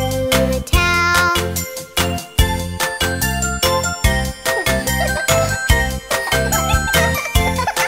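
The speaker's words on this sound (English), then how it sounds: "The ice cream truck bell goes ding-a-ling all through the town." A bright ice cream truck bell jingles in rhythm within an upbeat children's song, repeated ringing dings over bouncy music at the front of the mix.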